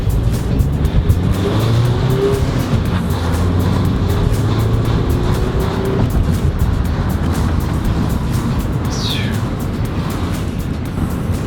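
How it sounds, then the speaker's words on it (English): A Mazda 5 seven-seat MPV pulls out and accelerates hard, its engine roaring loud and close with steady wind and road noise throughout. "Let's do a pull out now. See how the car goes for that."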